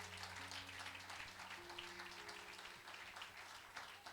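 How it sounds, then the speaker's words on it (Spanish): Faint, steady applause from a church congregation during a worship service, running without a break over a low background hum. "La recibimos con un aplauso desde España"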